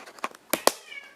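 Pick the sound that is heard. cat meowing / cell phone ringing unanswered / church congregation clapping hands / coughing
cat meowing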